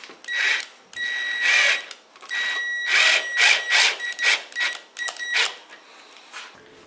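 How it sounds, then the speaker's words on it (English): A self-drilling fixing is screwed into plasterboard, heard as a series of close whirring bursts with a high, steady whine, each stopping briefly before starting again. "it drills its own hole into the plasterboard"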